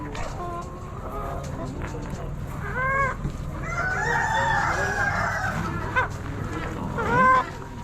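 Chickens at a poultry auction, among them silver laced English Orpingtons, cluck and crow close by in a series of clear calls over a busy background, with people talking throughout.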